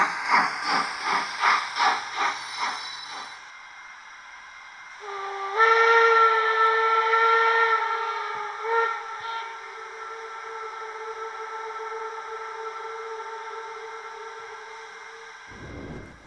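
A model steam locomotive's sound decoder, run from a Z21 digital controller, gives a series of pulsing chuffs and then a long steady steam whistle with hiss that holds for about ten seconds before cutting off sharply.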